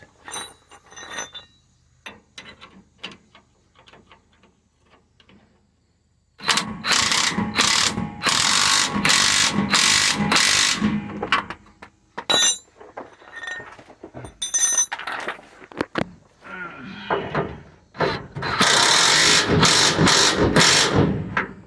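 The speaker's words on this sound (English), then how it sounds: "Supposedly that impact gun's got a 600 foot-pound breakaway strength, or 800 foot-pound breakaway." An impact gun tightens air shock bolts on a Ford F-150, firing in loud, sustained ratcheting bursts separated by short pauses, after quieter clinks and handling sounds at the start.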